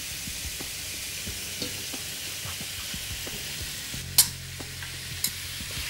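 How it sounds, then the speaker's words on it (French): Pasta with finely chopped garlic and onion is stirred in a pan, giving a steady gentle sizzle with soft scraping and clicks, one sharp utensil knock and a fainter tap later. Close by and without voices. "On va remuer un petit peu comme ça."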